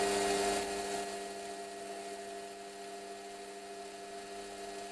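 A Warco WM180 lathe reams aluminium with a 6mm reamer at a slow 300 RPM, giving a steady, even motor hum and faint whine after a brief quieter start.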